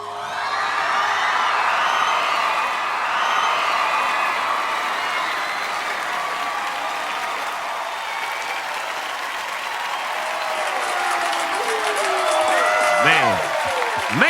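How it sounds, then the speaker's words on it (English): Loud, sustained applause and cheering from a large live audience at a televised song contest, filling the whole stretch after a performance, with whoops rising near the end. "make some noise for Tyler Brayton from Tennessee"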